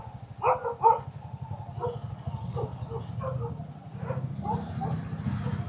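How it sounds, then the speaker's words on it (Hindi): Dogs bark and scuffle in a fight along a hill road near Mukteshwar: a few sharp barks and yips early on, then rough growling noise, all close by and mixed under someone talking. "ये साले कुत्ते हैं या भालू हैं, ये लड़ रहे हैं"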